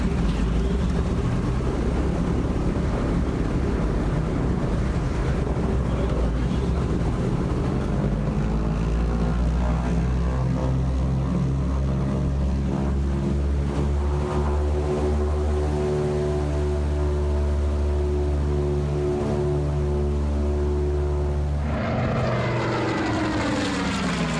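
Radial piston engines of a B-25 bomber crank and catch, building into a loud, steady propeller drone with strong low harmonics that rises in pitch as the engines settle, then shifts abruptly near the end.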